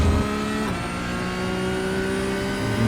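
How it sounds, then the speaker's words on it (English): A Porsche Cup race car in the iRacing simulator, driving Silverstone, holds its engine at full throttle with a loud, steady high-revving drone and a brief dip near the start before the tone climbs again. "And then we're just full throttle through the rest of this."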